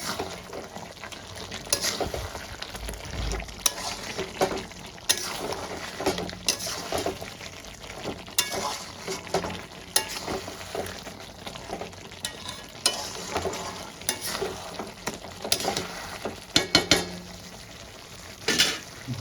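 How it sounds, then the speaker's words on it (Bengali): Masala spice paste fries and is stirred in a pan for butter chicken curry: a continuous sizzle broken by frequent scraping and clinking of a utensil against the pan, uneven and close. No voices. "আমি ভালো করে মিক্স করে কষাতে থাকি"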